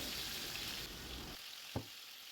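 Chicken pieces shallow frying in a pan of oil for butter chicken, both sides already browned, giving a steady close sizzle that thins out partway through, with one brief clink near the end.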